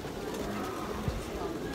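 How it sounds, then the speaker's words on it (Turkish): Pigeons coo softly in a park courtyard near a pool and bird feeder at Eyüp Sultan, the low calls faint beneath a steady outdoor murmur and distant voices. "Ay çok tatlı kuşlar."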